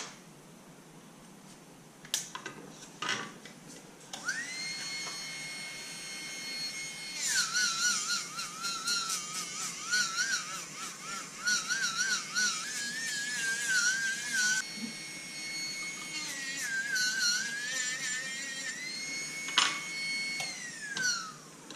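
A small high-speed rotary tool sands metal spurs with 400-grit abrasive: a thin, piercing whine rises and wavers as the tool bears on the work, with clicks and brief starts before it settles into long continuous passes, close and fairly loud.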